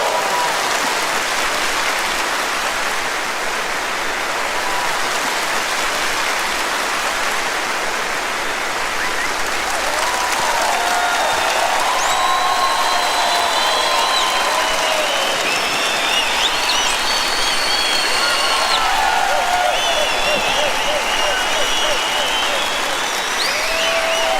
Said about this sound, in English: Please give them an enormous applause, the Johann Strauss Orchestra!